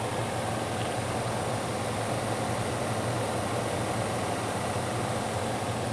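A truck engine idling nearby, a dense, steady broadband rumble with constant low drone and no change in pace throughout.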